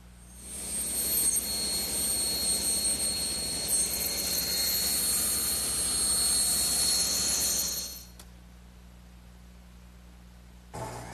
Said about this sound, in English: So I'll just rip off the excess.